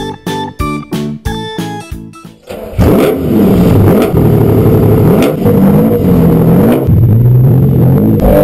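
A Lamborghini Countach engine revs loudly and repeatedly, rising and falling in pitch. It follows a few seconds of plucked musical notes and then continues alone.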